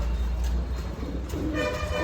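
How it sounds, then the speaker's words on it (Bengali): Soft, low pigeon cooing repeats under a steady background hum, with no voices. "এটা আমার অনেক পুরানো কবুতর খুব ভালো ডিম বাচ্চা করে"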